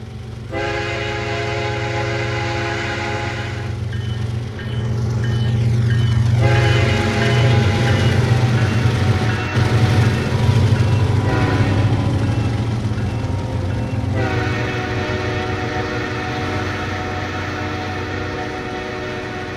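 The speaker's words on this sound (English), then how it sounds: "A 42V, Roanoke to Valdosta, came running up behind him at full speed." A 42V Roanoke-to-Valdosta freight train runs at full speed, its loud horn blaring in long sustained blasts over a continuous rumble and rattle of rolling cars, close and steady throughout.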